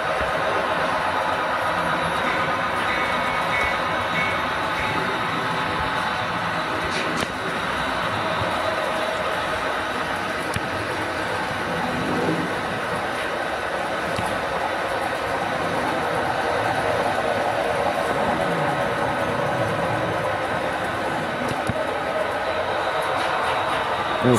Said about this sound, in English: we got the little train chasing the steamer right now